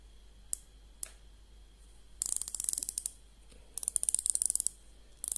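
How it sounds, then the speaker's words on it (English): Two single clicks, then rapid runs of fine, thin ratcheting clicks as a 120-click field watch bezel turns, close and crisp against a quiet background. "it's a thinner click than some other dive watches"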